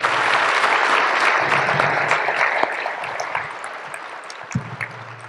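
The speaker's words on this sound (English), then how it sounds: "I want to give one last round of applause to all of our award winners and all of our volunteers." A Chamber of Commerce business awards audience applauds award winners and volunteers, a dense steady clapping that holds strong for several seconds and then thins out toward the end.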